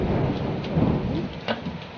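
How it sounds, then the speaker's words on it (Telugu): Steady rain falls with a low rumble underneath, like distant thunder, and a few faint scattered knocks in the background. "ఈ వర్షం అసలు వదలట్లేదు"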